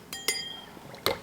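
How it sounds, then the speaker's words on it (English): A glass blender jar clinks sharply against its base as it is inserted, two quick knocks close together, then a louder third clink after a short pause, close up and with no speech. "Insert the blender"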